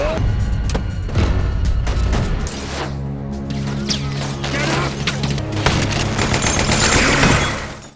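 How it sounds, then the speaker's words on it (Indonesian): Gunfire from a film shootout between gangsters, dense bursts of shots and booms layered over music and tense score, loud and continuous throughout. "Dalam aksi tembak menembak itu, Tommy tewas ditembak Molly dan Molly tewas ditembak oleh Sue"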